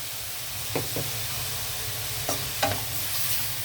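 Ground cumin and coriander powder being stirred and fried in a pan, a steady sizzle with several sharp scraping stirs of a spoon against the pan, no voices.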